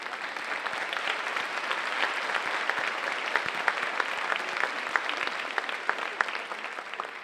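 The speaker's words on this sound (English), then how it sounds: "Would the faculty please stand so that we can recognize you with our applause for a job well done." Audience applause for faculty at a spring university commencement ceremony: dense, continuous clapping from a large crowd with individual claps standing out, steady and fairly loud throughout.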